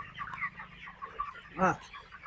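Hens cluck softly in a poultry farm, with a louder burst of clucking near the end and quiet human voices in the background.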